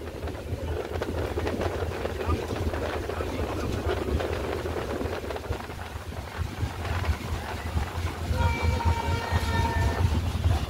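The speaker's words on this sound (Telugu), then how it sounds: "అటే మొత్తం ట్రైన్ వెళ్తుంది గాయ్స్" Train on the Khammam–Warangal route, East Coast Express from Shalimar to Charlapalli: a continuous heavy rumble and rattle of the moving train fills the whole stretch, with brief horn-like tonal bursts near the end.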